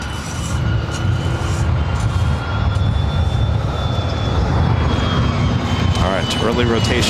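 A jet airliner rolls and rotates for takeoff on runway 24 right at LAX, a steady, loud broadband engine roar filling the whole stretch, with radio chatter from the tower heard over it.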